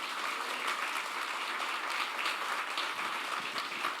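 Church congregation applauding, a steady dense wash of clapping heard at moderate distance, continuous and even for a few seconds with no talk.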